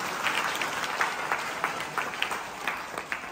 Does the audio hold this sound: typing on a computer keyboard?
no